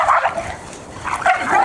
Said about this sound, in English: These are my two brown dogs jumping out